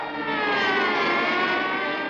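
A person imitates a police siren, a wailing tone, sustained and rising slightly, loud and close, with no speech over it.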